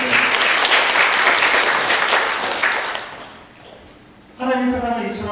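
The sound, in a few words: church congregation applause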